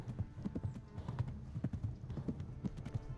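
Rapid hoofbeats of a galloping horse in the video game Kingdom Come: Deliverance, a steady clip-clop rhythm throughout, close and fairly loud with a faint background hum.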